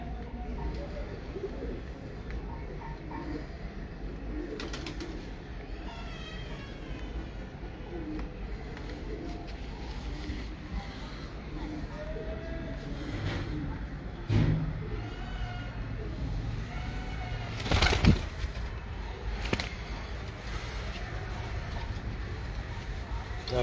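Breeder pigeons coo softly and repeatedly over a low, steady background hum, with a few brief louder knocks and rustles partway through.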